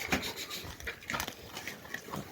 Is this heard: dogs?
yes